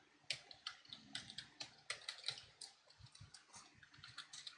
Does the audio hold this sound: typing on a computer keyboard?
yes